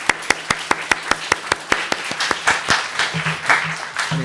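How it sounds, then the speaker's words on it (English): Audience at an interfaith panel discussion during a Dharma family service claps for the speakers. Sharp, evenly spaced single claps at first, then a fuller wash of applause from many hands that swells and continues to the end. "So I'd like to, clap hands for the wonderful speakers today."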